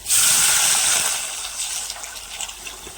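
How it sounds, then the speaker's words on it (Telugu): Water poured into a hot pan of fried dry red chillies, curry leaves and garlic gives a loud gushing splash at first, then settles into a softer, steady bubbling sizzle with no talking. "ఇప్పుడు ఇందులో వాటర్ పోసేస్తున్నానండి"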